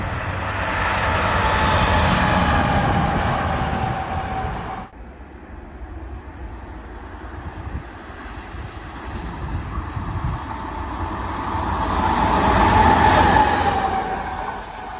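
A German class 218 diesel locomotive rumbles past a level crossing near Amstetten, a loud close roar that cuts off abruptly, followed by a fainter rolling rumble and a second swelling pass, with no talking.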